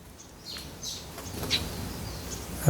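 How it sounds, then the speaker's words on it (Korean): Sparrows chirp in a front yard, a few short bright calls scattered over a soft outdoor background, with one sharper chirp near the middle and faint rustling around them. "참새가 또 오기 시작했어요."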